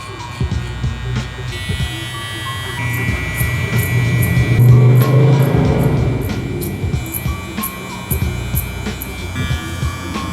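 A hair trimmer buzzes while cutting a dark low taper fade, its steady electric hum rising louder in the middle as it works close against the head, with some talk alongside.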